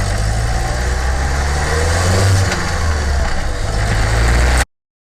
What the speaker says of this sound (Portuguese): Então, esse é o barulho do grilo do motor.